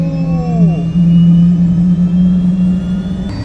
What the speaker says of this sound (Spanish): Miren cómo arranca un helicóptero